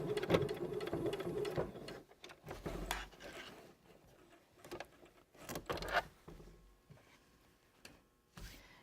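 A sewing machine stitches and back stitches across a zipper in short, close bursts separated by pauses, its rapid mechanical patter starting and stopping several times with no talking.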